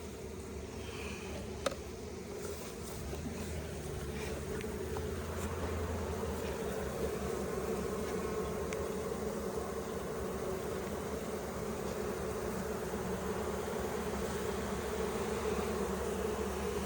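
Honeybees buzzing around an open beehive box during an August hive split in North Carolina, a low, continuous hum of many insects close by with a faint background drone, steady throughout and no voices.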